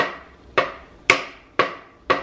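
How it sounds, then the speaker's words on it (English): Toddler pegs hammered into a wooden peg toy, four sharp evenly spaced knocks, each ringing briefly, close and clear with no talking. "So they put the correct pegs down here and then they hammer it down."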